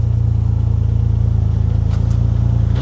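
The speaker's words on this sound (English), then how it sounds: "Don't rev it from cold." A car engine idles and revs steadily from cold, a loud, continuous low rumble filling the whole stretch with a brief rise near the end, no talking.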